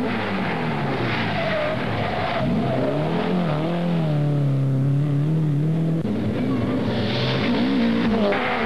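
A 1983 Opel rally car engine in a Belgian rally, loud and close, revving and shifting through rising and falling pitch sweeps with tyre squeal, steady and unbroken with no talk.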